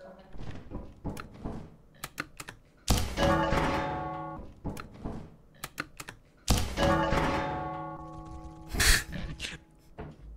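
A brass bell in Lethal Company rings out twice, each strike leaving a sustained, slowly fading metallic tone amid scattered clattering thumps and knocks.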